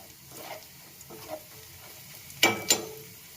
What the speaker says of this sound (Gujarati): લસણ ડુંગળી એકદમ પાકી જે ક્રિસ્પી થઈ જાય ક્યાં સુધી ગરમ થવા દેવાનું